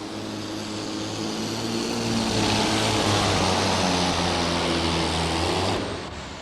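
Minneapolis Moline Yellowbird super stock pulling tractor running its gasoline engine at a farm machinery show, a loud, steady droning roar with strong harmonic hum that swells through the middle and eases near the end.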